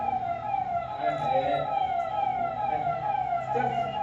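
An ambulance siren wails continuously in a theater play, its steady warbling tone moderately loud, with muffled stage voices faintly underneath.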